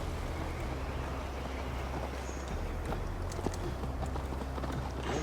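Horse hooves clip-clopping at a steady rhythmic pace while riding in Assassin's Creed Valhalla, fairly close and continuous over a low rumble of ambient noise, with no talking.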